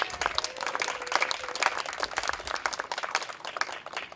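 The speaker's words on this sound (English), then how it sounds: "how about give ourselves a round of applause" An outdoor Arbor Day celebration audience applauding, a dense patter of many hands clapping at a moderate distance, continuous for several seconds and fading slightly toward the end.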